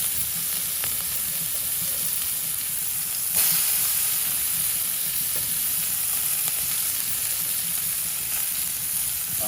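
A steady, loud sizzle of chopped shallots frying in hot sesame oil fills the clip, with faint stirring scrapes and a brief surge partway through.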